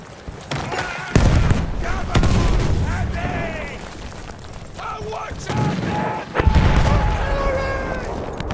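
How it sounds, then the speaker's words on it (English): Battlefield game combat audio, with explosions and gunfire booming in a dense mix while radio-style voice callouts run over it, loud bursts landing near the start and again later in the clip. "Throw grenade, watch it!"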